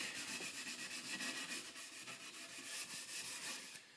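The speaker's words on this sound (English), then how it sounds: "dip that in the polish and actually rub that into your timber" Polish rubbed by hand with an abrasive pad into the timber back of a cigar box guitar neck, a steady close scrubbing with rhythmic back-and-forth strokes and no talk.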